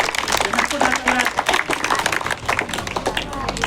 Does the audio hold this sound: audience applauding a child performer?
yes